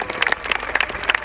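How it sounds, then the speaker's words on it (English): Scattered clapping from a small crowd at a police dog display, moderately distant and fairly quiet, with a steady patter of hands. "Round of applause for Duke"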